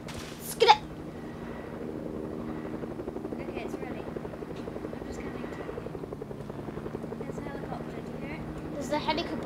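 A helicopter in the video game Fortnite whirs steadily in the background with a low rotor chop, the hum sitting under quiet game sounds with a sharp click near the start.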